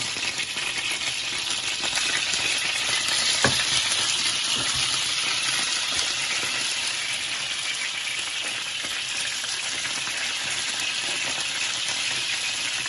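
Chicken skewers frying in a pan, a continuous bright sizzle and crackle heard close up, with a few small clinks of metal on the pan and no voices.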